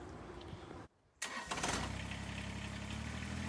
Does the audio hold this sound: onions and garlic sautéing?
no